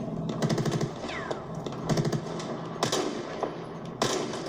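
Bursts of rapid gunfire from the Battlefield video game rattle in short volleys, moderately loud, spaced over a few seconds with brief pauses between.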